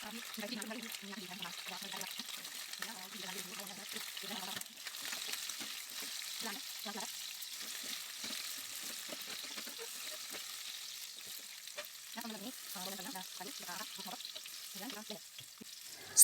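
Chilies fry in hot oil in a home kitchen, a steady soft sizzle and crackle running throughout while someone talks over it.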